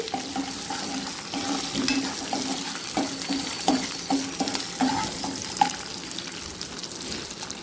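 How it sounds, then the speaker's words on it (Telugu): Tempering seeds and curry leaves crackle in hot oil in a pan, a steady close sizzle with scattered pops and the scrape of stirring. "ఈ పోపు బాగా వేగాలి."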